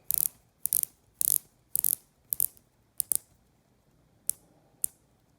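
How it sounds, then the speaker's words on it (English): A Pagani PD-1671 watch's 90-click bezel being turned, giving short bursts of crisp, close ratcheting clicks, several quick runs followed by a few single clicks in a quiet room. "Now it does have a little bit of back play, but not much. Actually very nice bezel action."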